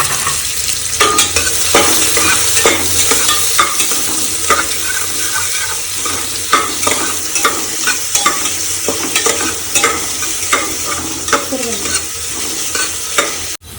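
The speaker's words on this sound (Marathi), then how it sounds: "तर तेल गरम झालं इकडे कट केलेला कांदा त्यामध्ये टाकून घ्यायचं आणि कांद्याला छान फ्राय करायचं" Chopped onion frying in hot oil for a mutton curry, with a steady close sizzle and frequent scraping and clattering stir strokes throughout, and no voices.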